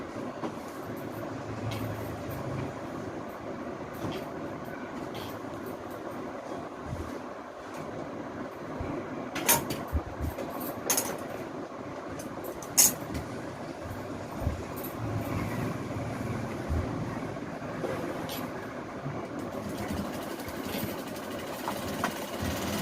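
Sewing machine running in low mechanical bursts as a rough, thick stitch attaches a ready-made belt to a madisar saree, with a steady motor hum and a few sharper clicks, close by with no talk.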